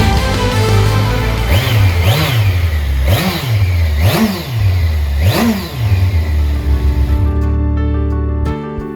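A 2020 Kawasaki Versys 1000 GT motorcycle engine is revved close by, four rising and falling blips over a steady idle before it cuts off.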